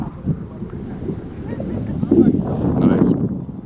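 Breezy wind buffets the microphone on a cruise pier in Cozumel, a low rumbling gusty roar that swells toward the end while a person talks over it.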